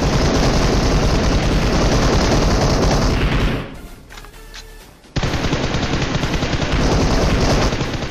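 Blind spray of automatic gunfire in PUBG Mobile, loud dense rapid bursts that cut out briefly into quieter game ambience with faint pings, then resume just as hard and continuous.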